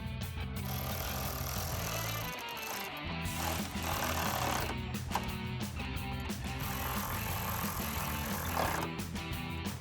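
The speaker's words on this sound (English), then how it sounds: "tighten these down with a 13mm socket" Bolts on the hinges of a Barricade HD tire carrier for a 2021-2024 Ford Bronco are tightened with a 13mm socket, a steady mechanical whirring and rattling that runs continuously and loud throughout, with no talking.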